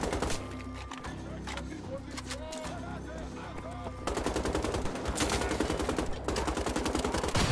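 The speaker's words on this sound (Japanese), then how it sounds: "よし、おお、なんか爆発した。" Gunfire and explosions from the video game Wolfenstein: The Old Blood, with dense rapid bursts that grow louder in the second half while a player talks over the action.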